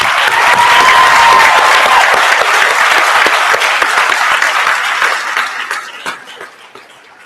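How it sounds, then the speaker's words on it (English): Sustained applause from a commencement audience at Tar River Academy's 2015 graduation, dense and loud throughout, then thinning and tapering off over the final two seconds. "can we join me in giving him a round of applause again, please?"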